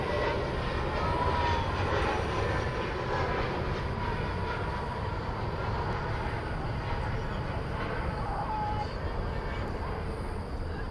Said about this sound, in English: Airbus 321 on a 2-mile funnel